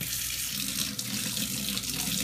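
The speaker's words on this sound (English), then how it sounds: "for a short period run some cold water over it" Cold water runs steadily from a tap over a used, hot Keurig K-Cup 2.0 capsule, a constant close hiss and splash with no talking.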